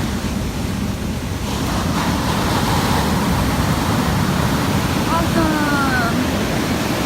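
Ocean surf rolls onto a Bali beach as a steady, loud broadband wash with wind buffeting the microphone, continuous throughout, while people talk over it.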